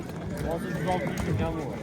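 Horses at a winter horse market in Nookat, heard as neighing and whinnying with hoof clatter under a busy crowd, while people talk nearby.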